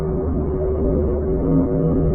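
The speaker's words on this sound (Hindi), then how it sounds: "अब हम लोग चांद की उस रहस्यमयी आवाज को सुनेंगे, जिसे प्रज्ञान रोवर और विक्रम लैंडर ने चंद्रमा की धरती से भेजा है।" Moon sound sent back by the Chandrayaan 3 Pragyan rover and Vikram lander: a steady, muffled droning hum with low layered tones and slight wavering, continuous and fairly loud throughout, no voices.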